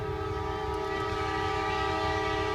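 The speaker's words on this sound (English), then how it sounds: "that's the end of the NS train heading east towards Silver Springs" A Norfolk Southern freight train heading east, with a steady loud rumble and strong sustained horn-like tones throughout, close by and continuous with no talk.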